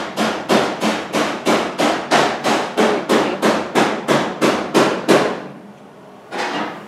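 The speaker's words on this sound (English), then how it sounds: "you start hammering so that nobody can hear me on the video now?" Rapid, evenly spaced hammer blows on metal during work on a 1970 Dodge Charger, about three per second, loud and close, a brief pause, then one more strike.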